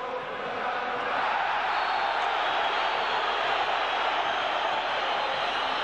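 Steady stadium crowd roar at a Padova versus Fiorentina Serie A football match, a broad sustained cheer that holds level throughout, heard at a distance with no clear talk on top.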